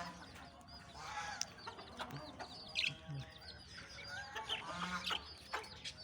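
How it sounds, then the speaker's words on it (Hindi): Small young chicks outdoors on a poultry farm in cool winter weather, chirping and clucking in a scattered flock, with frequent soft close calls and occasional louder peeps over quiet ambience. "ये छोटे छोटे मुर्गी के बच्चे हैं, चूज़े हैं।"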